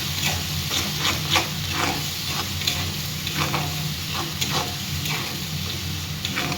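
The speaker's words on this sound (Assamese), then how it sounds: "এতিয়া মই ভালদৰে লৰাই দিম।" Fish fries in a pan with salt and turmeric while being stirred, a loud, constant sizzle close up with repeated scraping strokes throughout.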